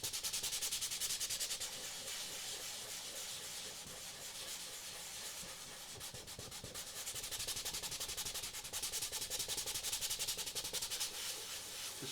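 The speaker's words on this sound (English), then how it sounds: "And so we take the back side here, facing up, and just sand inside of that outline." Steady, close sanding inside the traced outline on the back side of a Spider-Man faceshell, a continuous hissing rub that holds at an even level for the whole stretch with small rhythmic variations and no voices.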